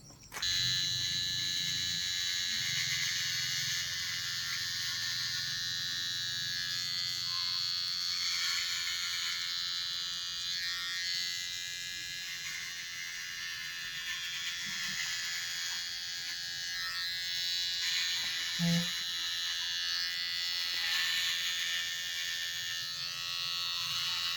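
An XO electric hair trimmer fitted with a 3mm blade buzzes steadily while cutting hair, a close, constant high-pitched motor whine with slight shifts as it moves through the hair and a few brief knocks.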